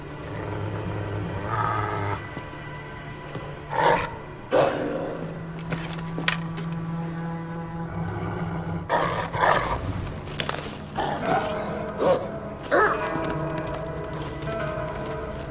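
A pup in Assassin's Creed Valhalla makes low, intermittent whines and growls that rise and fall in short bursts over a steady background hum.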